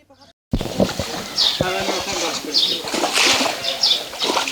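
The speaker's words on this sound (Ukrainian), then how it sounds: "Одинадцятирічний ведмідь Барні, вийшовши з лігва, порпається у воді" Splashing and sloshing water as a bear at a zoo rummages in a pool on a hot day, steady and close, with bird calls and a voice in the background.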